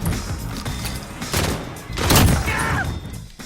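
Muffled bursts of gunfire and thuds from the Call of Duty: Modern Warfare video game, a steady dense rumble with a louder swell near the end, close and moderately loud.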